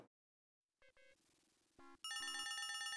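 A telephone rings in the Leisure Suit Larry video game, starting with two short electronic beeps and then a loud, continuous warbling synthesized ring.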